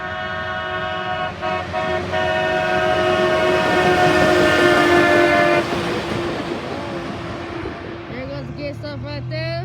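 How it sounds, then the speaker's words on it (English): A CSX work train with a regulator passes close by, sounding its horn in loud sustained blasts with brief breaks over a rumbling roll. Voices talk near the end as the horn stops. "There goes one of the trains."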